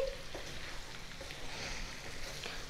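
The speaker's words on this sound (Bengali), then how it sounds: "খুব ভালো করে আলু মেথি শাক মিশিয়ে দিচ্ছি।" Potatoes and fenugreek leaves stirred together in a hot pan, a soft continuous sizzle with faint scraping and stirring movements, fairly quiet and steady throughout.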